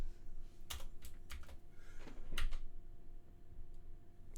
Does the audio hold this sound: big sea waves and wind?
no